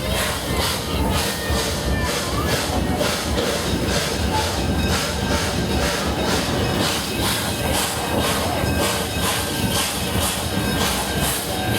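The Omaha Zoo Railroad train rolls steadily along its rails with a regular clickety-clack rhythm from the wheels, loud and continuous, with faint crowd noise mixed in.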